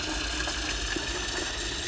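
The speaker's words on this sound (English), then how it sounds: "So you can see the water filling up." Water runs steadily from a tap into a container for a homemade flow controller, a continuous close, loud gushing rush with no talking.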